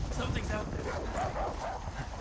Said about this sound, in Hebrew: שומע כלב.